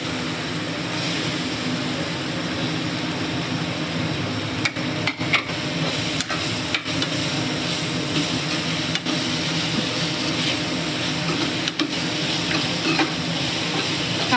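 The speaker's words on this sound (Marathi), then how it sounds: "तर हे बघा त्यांना लागून याच्यात टाकते मी कांदे" Onions fry in a pan over a charcoal stove (shegdi), producing a constant, close sizzle throughout with occasional sharp clinks and knocks of utensils.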